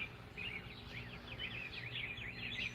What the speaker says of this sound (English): y'all hear the birds singing